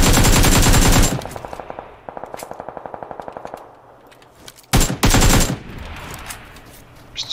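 Gunfire in a video game: a loud automatic burst, then rapid evenly spaced shots, a pause, and another sharp heavy burst with echoing tails trailing into quieter background.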